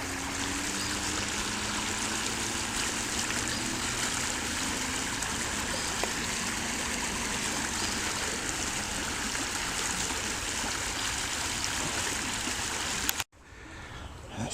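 Steady babble of a flowing creek, continuous and fairly close, with a faint low hum underneath; it drops away abruptly near the end.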